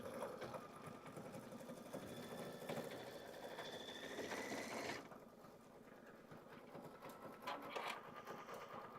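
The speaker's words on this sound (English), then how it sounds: "while this satin stitches around my baskets" An embroidery sewing machine satin-stitches around quilted baskets with a fast, steady mechanical whir. The whir is close but quiet, slows after about five seconds, then continues.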